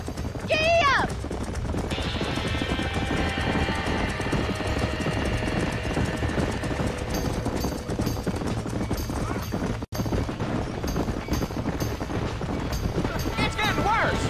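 Galloping horse hooves in the video game Red Dead Redemption during a barn fire, a steady rapid clip-clop running beneath loud music and shouting voices for most of the stretch, with a horse whinny near the start.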